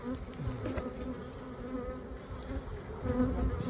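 Honeybees buzzing at an open beehive during hive work, a dense continuous drone of many bees close to the microphone, with no talk.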